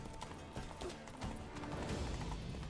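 Roach, a horse in The Witcher 3, gallops with quick, rhythmic hoofbeats that pound steadily and close by throughout, without talk.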